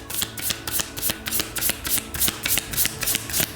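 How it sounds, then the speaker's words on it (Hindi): Tarot cards riffled and shuffled by hand in a quiet room, a rapid run of crisp papery flutters repeating in short bursts, close and fairly loud, with no talking. "ठीक है, तो शफल करते हैं हम ऑप्शन 1 के लिए।"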